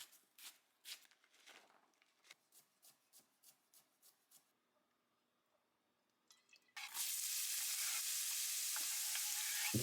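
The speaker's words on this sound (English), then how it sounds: "Zucchini fries up super well." Zucchini meatballs frying in a pan, starting with a series of short crackling pops and clicks, then a sudden loud, steady hiss of sizzling oil that fills the last few seconds.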